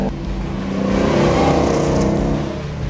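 A 1965 Ford Mustang Fastback, a GT350 Shelby replica with a big V8 and manual gearbox, pulls hard close by, its engine note swelling and holding loud for a few seconds before easing off slightly.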